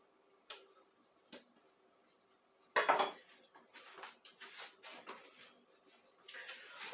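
A knife chops red and sweet onion on a board in a kitchen, giving sparse, light taps and one brief scraping burst, close and fairly quiet, with faint background noise.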